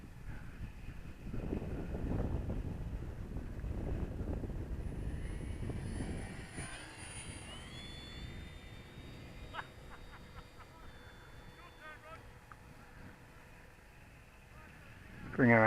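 A radio-controlled model airplane on its maiden flight drones overhead outdoors, its engine whine rising and shifting in pitch as it passes, with heavy wind buffeting the microphone early on and people talking nearby.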